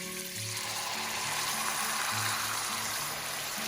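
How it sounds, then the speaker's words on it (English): Chuck roast beef browning in a hot pan, a steady close sizzle and crackle of searing meat with a few low bumps, no talking. "We're gonna brown the meat first."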